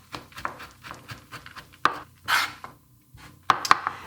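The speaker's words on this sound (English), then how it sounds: "I need to cut the lemon and orange peels into smaller pieces" Candied lemon and orange peel chopped with a knife on a board: a few irregular sharp taps and short scraping cuts, close up, separated by brief pauses, with no voices.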